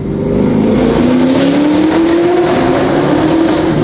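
Car engine revving hard and accelerating through the gears, a loud, close, steadily rising drone with gritty roar throughout and no talk.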